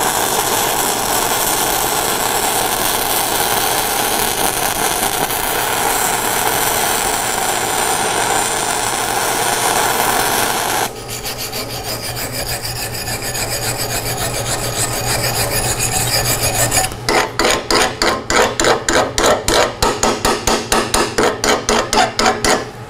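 Flux core wire feed welding: a steady, loud crackling sizzle with no slag, shifting partway through to a harsher buzz and then a rapid pulsing rasp near the end, with no voices.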